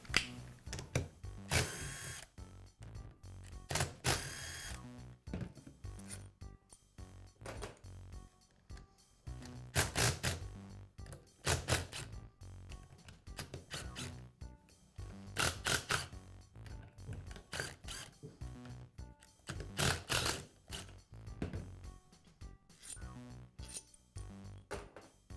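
Bolts come out of a Karcher pressure washer pump with a series of close metallic clicks, clinks and ratcheting bursts, irregular and repeated over the stretch.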